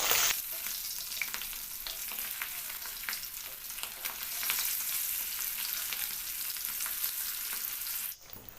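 Fish shallow-frying in oil in a pan, a steady, bright, continuous sizzle with faint crackles that cuts off abruptly near the end.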